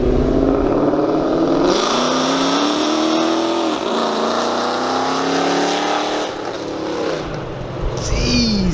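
Supercharged car revving hard and pulling away at a meet, a loud roaring engine sweeping up in pitch through several gears, continuous and close with a brief drop before another rev at the end.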